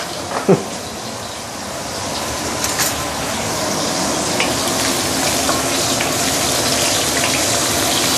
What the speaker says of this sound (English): Careful when you are frying things.